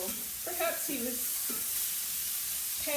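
Jackfruit pan-fries in a hot pan with a constant loud sizzle, broken by a few short scraping stirs close by.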